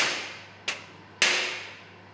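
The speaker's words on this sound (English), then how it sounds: "Tap the welded sections with a hammer to cause an opening of the V groove." Two sharp metallic strikes of a hammer on welded steel plate sections, the second louder, each ringing briefly and decaying, over a low steady hum in a workshop.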